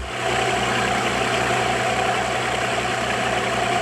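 A military patrol boat engine idles steadily, a loud, continuous low rumble with a faint rhythmic throb, running alone without any voices.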